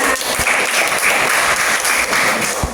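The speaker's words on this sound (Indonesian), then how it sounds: "Tepuk tangan untuk kita semua." Classroom applause during an Indonesian-language lesson: a dense, steady clatter of many hands clapping together, loud and close, filling the room for a few seconds with no talk over it.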